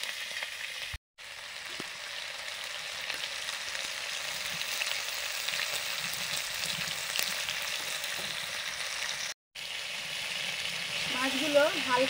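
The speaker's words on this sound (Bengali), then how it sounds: "মাছগুলো হালকা ভাজা হয়ে গেছে" Lightly frying tengra fish crackles and hisses continuously in a pan, broken by two brief cuts of silence, with a faint tonal sound creeping in toward the end.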